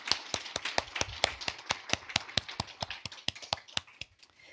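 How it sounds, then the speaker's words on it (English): Audience applause for a presenter at an environmental innovation challenge event, a steady run of sharp, fairly close claps continuing for several seconds before tapering at the end. "let's give him one more round of applause"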